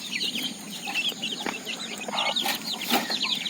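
An Aseel hen clucks in a steady, close run of short calls, with other poultry chatter and faint farmyard noise around it.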